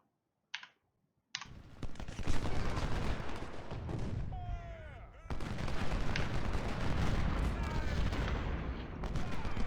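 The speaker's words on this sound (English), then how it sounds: "the artillery actually got a shot off at the cavalry" Artillery and musket fire crack through a Civil War strategy game battle, a dense run of sharp reports and rumbling blasts after two brief clicks, with a whistling shell streak in the middle.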